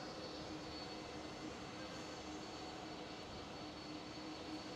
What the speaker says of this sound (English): There is the LATAM taxiing, just arrived a couple of minutes ago.